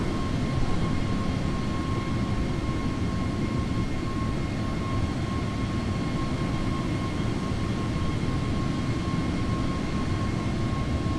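An airliner engine in Microsoft Flight Simulator gives a steady, unbroken cabin drone and roar with a faint high whine, constant in level throughout, with no voices.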